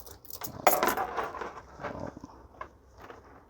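A set of house keys dropped into a Pacsafe Metrosafe X bag gives a sharp metallic jingle and clink near the mic, followed by softer rustling and small knocks inside the bag.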